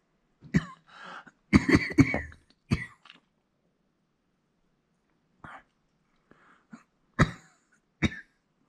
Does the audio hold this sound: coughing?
yes